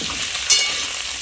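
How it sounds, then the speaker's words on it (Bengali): Carrots, radish, drumsticks, beans, potato and eggplant fry together in hot oil for a shukto, giving a dense, steady sizzle with a brief stirring scrape in the middle. "সব সবজিগুলোকে আমি একসাথে ভেজে নেব।"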